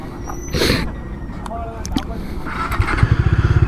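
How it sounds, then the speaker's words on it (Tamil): A Bajaj Dominar 250 motorcycle engine cranks and catches nearby, then settles into a fast, even thumping idle over the last second. "அப்படியே வண்டி ஸ்டார்ட் பண்ணலாம்"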